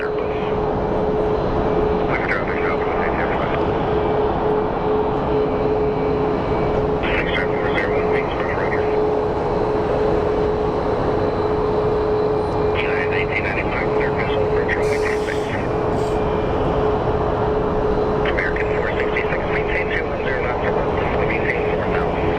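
An American Airlines jet airliner in a breast cancer research livery moves at Phoenix Sky Harbor Airport with a constant engine roar and a thin steady whine, while voices come and go over the noise.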